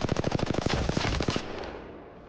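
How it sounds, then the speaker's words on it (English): R-301 rifle firing in the video game Apex Legends, a rapid burst of about twenty loud, evenly spaced shots lasting just over a second, then a fading echo tail. "what is the recoil pattern for the R301?"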